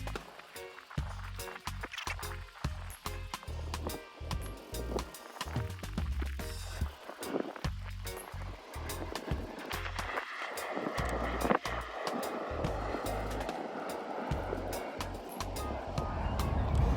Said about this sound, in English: I'm gonna use my buffing brush from Ball Players Balm